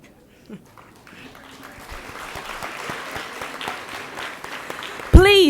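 At a graduation pinning ceremony, the audience applauds the early childhood education candidates. Clapping starts sparse and swells steadily, and a voice speaks over it at the end.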